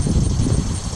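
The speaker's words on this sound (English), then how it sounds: "I'm in the field now and it's kind of windy" Wind blowing across an open field beneath storm clouds over mountains, a loud low rumbling buffet of gusts hitting the microphone steadily throughout, with no talk.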